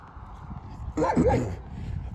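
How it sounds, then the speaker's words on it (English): A dog gives a single strong, loud bark close by, standing out briefly against a quiet background hum. "It's a strong bark, but it's annoying."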